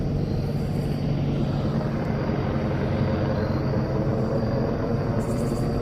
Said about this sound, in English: There's 2 helicopters and they are just flying circles round and round.